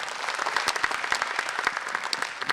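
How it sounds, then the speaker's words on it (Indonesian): Dense applause from a talk show audience at an Indonesian campus festival, many hands clapping steadily for the panel speakers, with no voices over it. "Tepuk tangan dulu buat semua narasumber saya dong."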